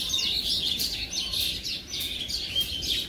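Myna birds squabble in a tree, giving a dense, continuous run of harsh, rapid chirps and squawks close by, with no pause throughout.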